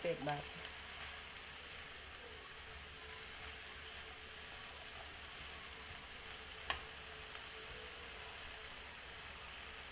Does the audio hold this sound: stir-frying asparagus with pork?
yes